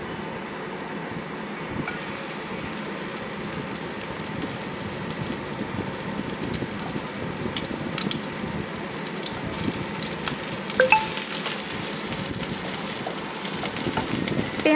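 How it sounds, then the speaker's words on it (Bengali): Chopped onions dropped into hot oil with a dried red chilli in a wok, giving a steady, dense crackling sizzle that swells after a couple of seconds and continues unbroken, with no talk over it. "এবার এই তেলের মধ্যে আমি কুচনো পেঁয়াজগুলোকে দিয়ে দিচ্ছি।"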